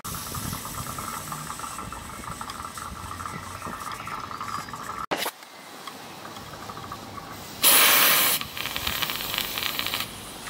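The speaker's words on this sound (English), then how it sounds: "Right then, we've got steam up," Steam hisses steadily from a Stuart 500 boiler and the open drain cocks of a Stuart Victoria model steam engine. It breaks off sharply, then returns as a quieter hiss that swells into a loud, close burst.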